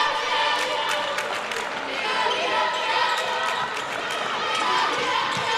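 Crowd noise at a college basketball game, a dense steady roar of fans rallying behind the Eagles against the Roadrunners, with squeaks and bounces mixed in and a commentator's voice over it.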